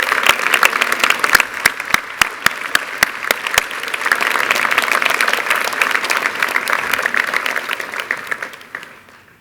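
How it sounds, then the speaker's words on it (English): A crowd applauding at a high school graduation ceremony, with dense, sustained clapping that starts with some distinct sharp claps, holds steady, then fades out near the end. "give these guys a massive round of applause"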